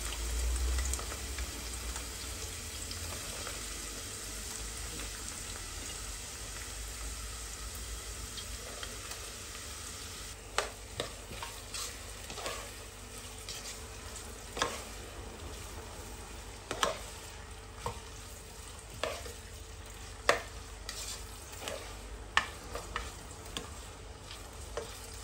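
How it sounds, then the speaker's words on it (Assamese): Chopped onions and capsicum fry in hot oil in a pan, giving a steady soft sizzle with scattered stirring clicks and scrapes that grow more frequent toward the end. No one speaks. "চ' মই প্ৰথমতে মই পিঁয়াজখিনি ভাজি লওঁ,"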